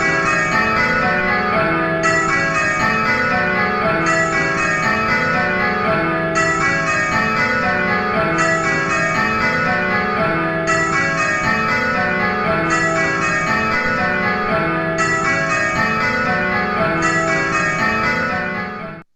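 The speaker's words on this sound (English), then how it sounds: "it's how many bells are ringing, and also what order are they ringing in the row" Church bells ring a change-ringing method in a steady, even cadence, each round of bells falling in a tumbling row, loud and continuous with no talk.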